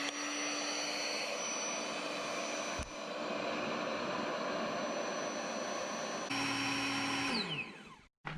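A GrandinRoad EZ Bed air mattress's built-in pump drones in a steady, close, whirring motor hum with a brief dip, then the pitch slides down as it shuts off.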